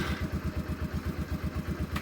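A Yamaha XT125X motorcycle engine runs with a steady, fast low thumping beat at moderate level. No one speaks.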